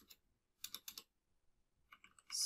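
Code being typed on a computer keyboard, quiet close clicks that come in short bursts of a few keystrokes separated by silent pauses, with a denser flurry at the end.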